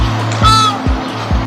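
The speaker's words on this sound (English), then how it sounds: "Flamingo." A flamingo gives loud, nasal, honking calls, one drawn-out harsh call followed by shorter repeated honks, close and clear with no talk.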